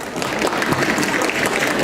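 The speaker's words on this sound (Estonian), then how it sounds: "Aplaus" Steady crowd applause fills the opening of a Christmas market in Tallinn: dense, continuous clapping from a gathered audience with no talk over it.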